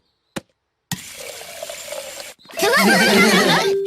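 A cartoon scene of water poured from a tap: a short rushing pour lasts about a second and a half after a brief knock, then gives way to brighter cartoon sounds.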